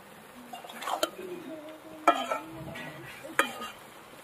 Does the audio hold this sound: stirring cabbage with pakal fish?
yes